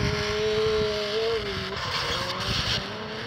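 Racing cars in a video game race roar close by with a steady, sustained engine whine whose pitch slides up and down through gear changes, with faint tire noise and no talking.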